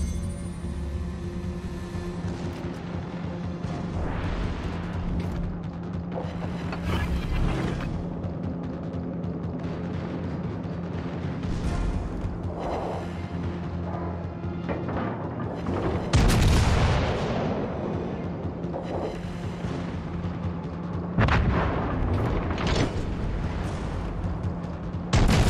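Heavy naval gun salvos from the Bayern battleship in World of Warships: Legends, several booming blasts spread across a steady bed of game music and ambience, with the loudest volleys near the middle and end.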